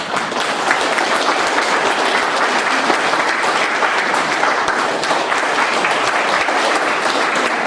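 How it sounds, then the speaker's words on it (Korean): Sustained, dense applause from an audience welcoming a guest speaker at a presentation in Korea, loud and steady throughout with no voices above it. "박수로 맞아주시기 바랍니다."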